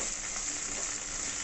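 Sliced onions (ఎర్రగడ్డలు) frying in a pan for buttermilk curry, a continuous soft crackling sizzle, close and steady, with no voices.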